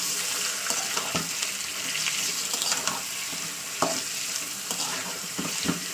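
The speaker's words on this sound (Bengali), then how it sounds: "এই তেলে চিকেনটাকে ফ্রাই করে নিতে হবে।" Chicken leg pieces fry in oil with a loud, steady sizzle, broken by occasional clacks of a spatula stirring in the pan, with no voices.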